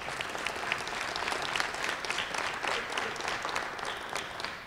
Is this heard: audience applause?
yes